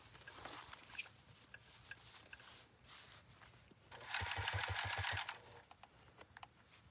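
A sewing machine stitches a quarter-inch seam on a turtle-shaped tote bag, with soft irregular whirring and a louder rapid run of stitching midway, quiet and close.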